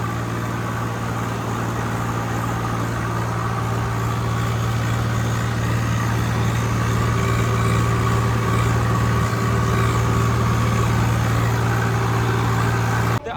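A tractor engine runs steadily at a trolley-pulling contest in the village of Sursingh, Punjab, with a loud, constant low throbbing hum throughout and no clear voices.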